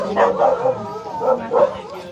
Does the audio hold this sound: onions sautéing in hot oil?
no